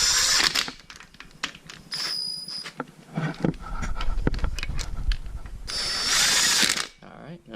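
A hand ratchet snugs down 10mm bolts on a Mazda RX-8 rotary engine during a rebuild, giving rapid, close metallic clicking in repeated bursts, with some workshop handling noise and brief pauses between strokes.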